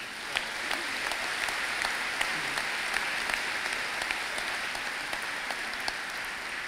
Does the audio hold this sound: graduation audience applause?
yes